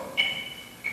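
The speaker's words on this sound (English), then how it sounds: "I'll play softly so you can still hear the metronome." Two bright, short electronic metronome ticks set at 90 BPM sound close together in time, a steady pulse over faint background noise.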